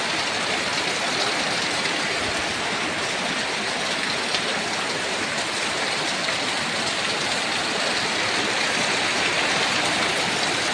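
Heavy morning rain pours down onto a flooded courtyard, an unbroken, dense patter and hiss that stays loud and even from start to finish with no talking.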